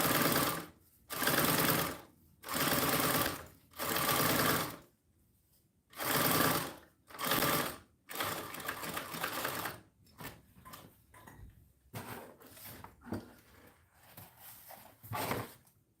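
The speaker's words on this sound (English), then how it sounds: "I'm just adding a quick little top stitch to the top of the slip pocket." Sewing machine top stitching the top edge of a fabric slip pocket, bursts of rapid close mechanical chatter separated by short pauses, growing shorter and choppier toward the end.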